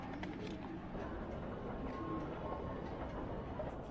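A Hong Kong metro train rolls along with a steady, fairly loud rumble and faint rhythmic rattling, heard from inside or close by, with no talk over it.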